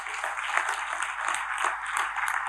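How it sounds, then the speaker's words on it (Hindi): An audience at a network marketing talk breaks into continuous applause, a dense, even wash of many hands clapping at moderate loudness for a few seconds. "एक बार ताली बजाइए इसके लिए।"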